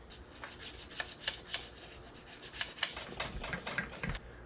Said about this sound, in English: I have 1000 grit sandpaper now wrapped around the 10mm. I'm gonna try and massage it a little bit.